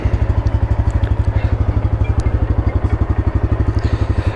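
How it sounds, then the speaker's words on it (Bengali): A new Bajaj Pulsar N160 motorcycle idles close up with a loud, steady low thumping engine beat, an even, rapid pulse that holds throughout without any revving or talk. "বাইকটা একটু স্টার্ট করতে হবে।"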